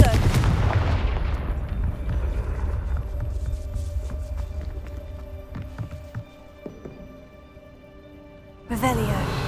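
Confringo blasting spells go off in Hogwarts Legacy: a loud booming explosion opens and rumbles away over several seconds, with small crackles as it fades, then a second sharp blast bursts out near the end.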